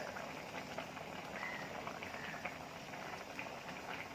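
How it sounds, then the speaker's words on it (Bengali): A shrimp and ridge gourd curry boils in a pot on the stove, giving a steady, dense bubbling and hissing that runs unbroken throughout with no voices. "এতে বলক চলে আসছে।"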